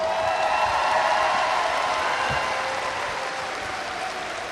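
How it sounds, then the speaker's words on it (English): Applause rolls through the audience at a 2021 high school commencement ceremony, a steady wash of clapping that stays fairly even and fades slightly toward the end. "Clap it up for them, y'all."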